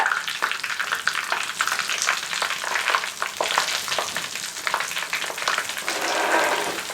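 Steady crackling sizzle of potato sticks frying in hot oil, with bursts of popping and occasional stirring, close and continuous throughout.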